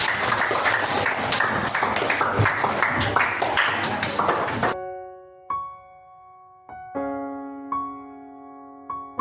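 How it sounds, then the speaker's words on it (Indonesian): A classroom full of people claps loudly for about four and a half seconds, then it cuts to a few clear sustained piano-like tones. "Tepuk tangan dong."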